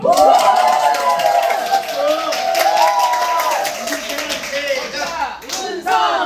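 A crowd at a Korean lecture-training event cheers and claps loudly and steadily, with voices shouting over the applause close by from start to finish.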